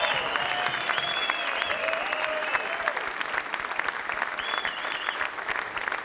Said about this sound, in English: Let's have another round of applause for your champion.